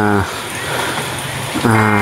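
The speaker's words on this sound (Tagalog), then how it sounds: "Yan, tingnan nyo ngayon, maulan na naman, oh." Rain falls steadily outdoors at midday on a tilapia farm, a continuous soft hiss filling the gap between a voice at the start and end.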